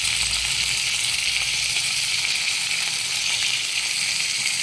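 Spice paste sizzles steadily in a hot pan as yogurt is worked in for doi potol, a dense, continuous frying hiss with no break and no voices.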